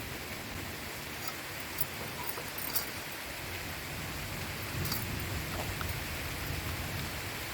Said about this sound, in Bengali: তো বলতে বলতে বৃষ্টি পড়া শুরু হয়ে গেছে